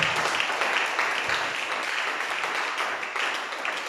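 A church congregation applauding to acclaim the Lord: dense, continuous clapping from many hands, steady and fairly loud throughout, with no distinct voices.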